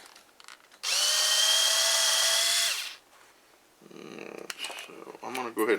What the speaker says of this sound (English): So I'm going to go ahead and drill both of these just in case I need to use the other one.